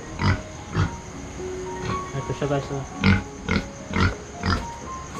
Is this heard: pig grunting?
yes